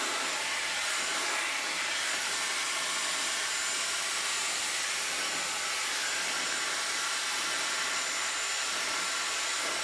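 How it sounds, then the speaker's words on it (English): A Dyson Airwrap hair dryer roars with a continuous, loud, steady airflow hiss while drying hair. The sound is close and even throughout, with no talk. "that's not bad for drying your hair"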